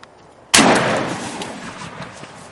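A single sharp, loud gunshot cracks out during a turkey hunt outdoors after a quiet start, followed by a long fading echo.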